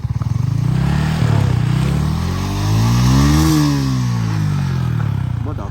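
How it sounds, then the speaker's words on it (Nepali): A motorcycle climbing a steep, dusty, slippery hill road in first and second gear, its overheating engine revving hard and loud close by, pitch rising and falling in long strained surges. "बाइक चाहिँ ओभर हिट भइरहेको छ एक दुईमा मात्र आइरहेको छु"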